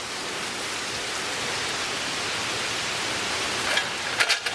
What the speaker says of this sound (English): Good time to start raining.